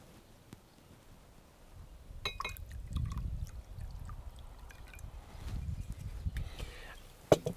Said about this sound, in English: Let's add two parts whiskey.